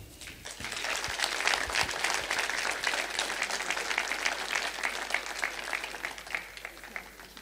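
Steady applause from an audience at a Swedish award ceremony as winners receive flowers and diplomas, dense overlapping clapping sustained for several seconds at moderate distance.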